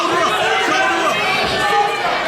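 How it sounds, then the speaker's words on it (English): A wrestling arena crowd murmurs and groans in disbelief after a near-fall pin attempt, a dense, steady wash of chatter and voices filling the space for a couple of seconds without a single standout shout. "And even the crowd can't believe it this time."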